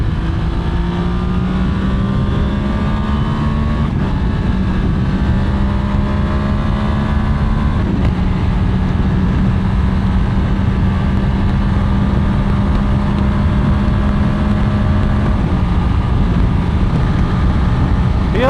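A VOGE DS900X motorcycle with electronic throttle accelerating on a road, the engine drone rising steadily in pitch through the gears over strong wind rush, continuous and loud, no talking.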